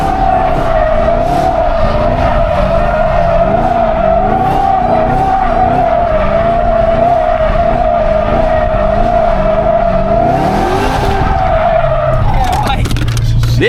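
A Dodge Hellcat does a burnout, its tires squealing in a loud, sustained wail over the engine's wavering roar, heard from inside the car, before the screech cuts off and the engine drops away near the end.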